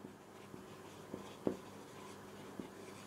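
Pen strokes as a chemical name is written by hand, a few faint scratchy taps and short strokes spread across a quiet, close background.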